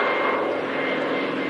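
A Douglas Dakota propeller airplane flying at a 1994 warbirds airshow at Wroughton Airfield, its piston engines giving a loud, steady droning roar that stays even and close throughout.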